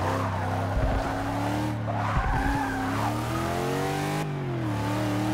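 An Ultima GTR race car in Forza Motorsport 6 brakes hard into a turn, its tires squealing in long skids over a loud, shifting engine drone, with no talk.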